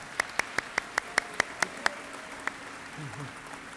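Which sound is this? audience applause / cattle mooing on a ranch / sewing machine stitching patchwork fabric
audience applause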